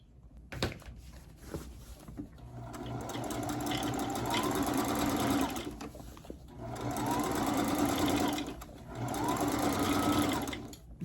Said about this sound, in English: I'm going to do 2 rows of basting stitch, the longest stitch that I can baste, 2 rows of it across the top